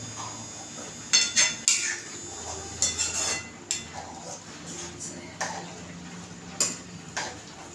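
A spoon scrapes and knocks against a pan while milk for carrot halwa is stirred over a full flame, with close, uneven clanks and clicks repeating every second or so over a faint background hiss.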